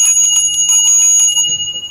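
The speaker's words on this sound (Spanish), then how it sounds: "¿No les tocan así la campana, el cencerro, a los borregos?" A cowbell of the kind hung on sheep is rung in a quick run of bright metallic clangs, loud and close, then it fades away.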